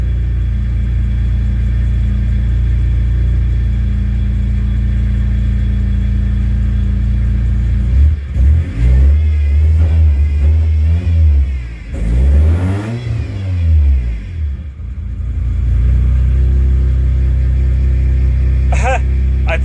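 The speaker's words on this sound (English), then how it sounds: "It's starting to actually idle now." A car engine idles loud and close after a fuel pump fault, with a steady low hum broken midway by a few revs that rise and fall before settling back to a smooth idle.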